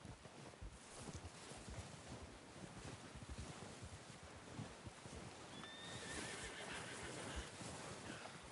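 A horse whinnies in the video game Red Dead Redemption 2, heard outdoors against steady wind and surf-like noise, with a brief high neigh partway through and no talking.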